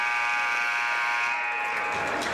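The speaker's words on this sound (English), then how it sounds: "As there's the buzzer." The final buzzer at a college basketball game, a loud sustained electronic tone ringing out through an arena, with crowd noise rising underneath as it ends.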